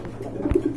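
A pigeon at a pigeon market gives a short, low coo, moderately close, over a faint murmur of background noise; the whole call lasts under a second.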